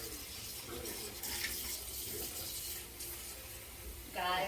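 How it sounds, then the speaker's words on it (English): Water runs from a tap into a cooking pot while Jamaican steamed fish with pumpkin is being prepared, a soft continuous splashing pour, briefly louder near the end, with a voice heard faintly at times. "So now we're gonna go in with some water."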